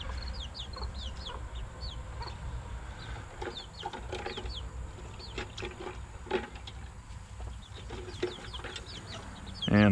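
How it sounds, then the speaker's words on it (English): A mother hen with her chicks in a farmyard, giving soft repeated clucks and high peeping chirps scattered steadily throughout, fairly close, with a brief louder noise at the very end. "the mama chicken and the babies are hanging out over here with me"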